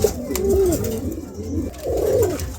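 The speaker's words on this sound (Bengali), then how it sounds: "চমৎকার এক জোড়া কবুতর দেখছেন" A pair of pet pigeons coo close by, two soft throaty rolling phrases separated by a short pause.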